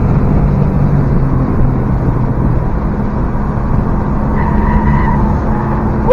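A 2013 Subaru Impreza WRX driven hard through a turn at a Subaru speed event: a loud, steady engine drone and road roar heard from inside the car, holding a constant pitch with a slight rising tone near the end.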